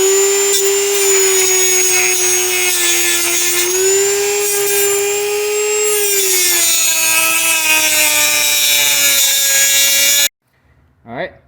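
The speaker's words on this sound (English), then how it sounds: "now we're going to take the Dremel and we're going to cut the heads off of these" A Dremel rotary tool cuts the heads off stripped stud bolts in a small engine head, giving a loud, steady high-pitched grinding whine that holds for about ten seconds, dips and rises slightly in pitch, then stops abruptly, followed by a brief faint sound.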